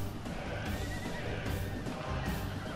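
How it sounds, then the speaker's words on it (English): Horses neighing during a Rome: Total War battle, whinnies surfacing from a dense, loud wall of battle noise with hoof clatter and crowd roar, steady throughout. "it's mostly gonna be horses here"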